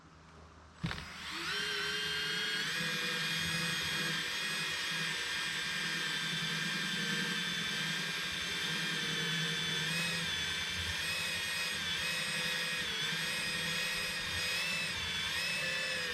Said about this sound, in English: that's why I like using my drill, because it's easier to manipulate the speed